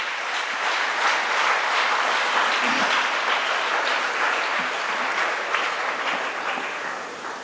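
Sustained applause from an audience at a Kannada talk, broad and steady clapping running the whole length at moderate level, easing slightly toward the end with no speech over it.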